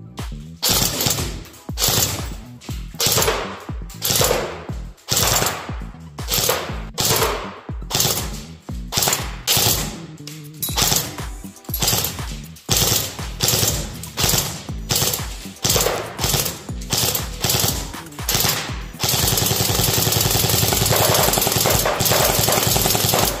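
A Snow Wolf M3A1 Grease Gun electric blowback airsoft gun fires on full auto with its blowback cap left open. It gives close, loud, rapid rattling bursts with mechanical clatter, separated by short pauses, and no one speaks.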